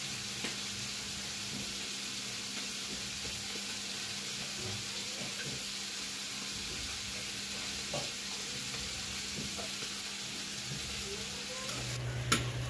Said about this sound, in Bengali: এখানে পেঁয়াজ, আদা, রসুন কষাই করছি